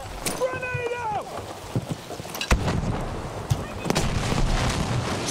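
Gunfire and a grenade-type explosion in a combat video game, with sharp cracks and a heavy burst midway over a noisy battle backdrop, and voices or tonal cries near the start.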